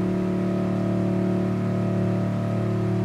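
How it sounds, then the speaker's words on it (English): A pickup truck engine in the Gran Turismo Sport racing game hums at a steady, sustained rev with a strong low harmonic drone, loud and alone, with no talking over it. "I'm in a pickup truck"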